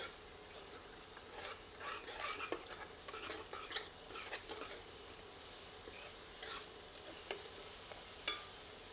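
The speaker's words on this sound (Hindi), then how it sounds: "अब इसमें 1 टेबलस्पून अदरक लहसुन का पेस्ट सम्मिलित करते हैं। इसे प्याज में अच्छी तरह मिलाकर भून लेते हैं।" Ginger garlic paste being stirred and fried with onions for a walnut mutton curry gives a soft steady sizzle, with a spoon repeatedly scraping and clinking against the pan, close and quiet, with no talking.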